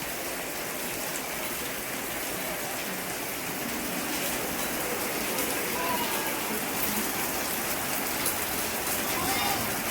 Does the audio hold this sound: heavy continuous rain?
yes